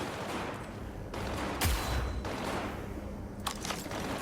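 Close-range gunfire in the video game Cyberpunk 2077, a few sharp, loud shots and bursts standing out over a constant noisy game background.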